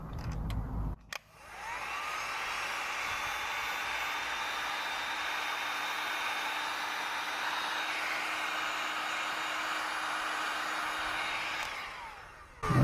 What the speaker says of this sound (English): Now, heat gun.